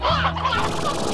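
Chickens in the Slime Rancher video game give a short burst of close, loud clucking and gobbling calls, alone and without talk.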